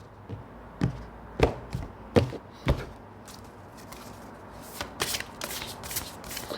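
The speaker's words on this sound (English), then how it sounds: "I don't get many cards flying out of this deck when I overhand." Someone overhand shuffles a deck of cards. Close, quiet, slapping riffles come in uneven bursts, with short pauses between the groups, and no speech.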